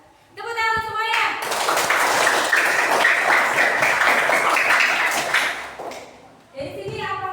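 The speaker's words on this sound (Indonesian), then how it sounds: "Tepuk tangan semuanya" Classroom of students clapping together for groups that have just presented, a dense burst of applause building quickly, holding steady for several seconds, then fading, with a teacher's voice speaking just before and after.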